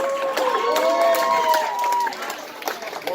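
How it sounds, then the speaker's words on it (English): An audience at a comedy show claps and cheers for a comedian, a sustained wash of applause with shouted whoops, while a host keeps talking over the crowd. "Give it up for Paul again. Clap it up"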